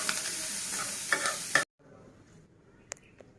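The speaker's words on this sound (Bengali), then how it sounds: "চিংড়ি মাছের সাথে আমি কাঁচা ঝাল কুচি আর পেঁয়াজ দিয়ে নিলাম, দিয়ে ভেজে নেব।" Shrimp fry in oil with chopped green chili and onion, a close, dense sizzle with a few stirring scrapes that cuts off abruptly, leaving quiet with a faint clink or two.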